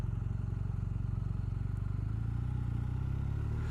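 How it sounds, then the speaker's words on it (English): A BMW R1250R boxer motorcycle engine chugs at low rpm during slow riding, a steady, close, rhythmic thrum that rises slightly toward the end. "Slow riding on this bike is very easy, as you'd expect."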